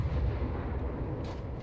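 Naval ship guns firing in War Thunder, a deep rumbling boom with a sharp crack near the end, heavy low-end and continuous, no speech.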